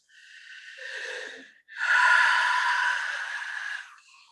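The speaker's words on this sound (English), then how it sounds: "Nice deep breath" A slow, deep breath taken during a guided relaxation workshop: a soft inhale followed by a longer, fuller exhale, close and fairly quiet, with no talking over it.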